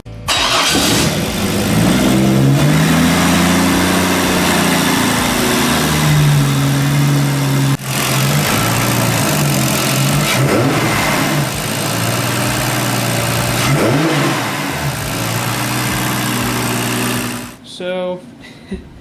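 An unusual homebuilt car, freshly wired, has its engine cranked and started, then settles into a loud, steady idle with occasional revs for about seventeen seconds before cutting off; a voice speaks briefly under it.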